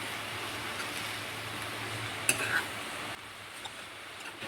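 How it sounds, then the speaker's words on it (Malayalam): Ivy gourd leaves are stirred in a hot pan with a steady soft sizzle and hiss, plus a brief scrape of a utensil midway, close and alone without talk. "അതിന് ശേഷം നന്നായിട്ടൊന്ന് ഇളക്കി യോജിപ്പിക്കുക"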